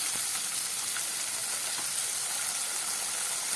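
Onion paste frying in hot oil for a katla fish curry, a steady soft hiss and sizzle, continuous and fairly faint, with no voices.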